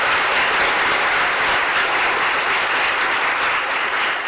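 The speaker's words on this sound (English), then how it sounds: "And a round of applause for her." Loud, dense applause fills a school gala hall, a sustained wash of clapping from a large audience with no voices on top.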